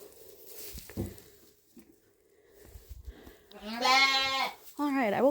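Ewes and lambs in a hardening-up pen after the lambing jugs, with soft shuffling and a faint voice at first, then two loud close bleats, one long and wavering, one shorter.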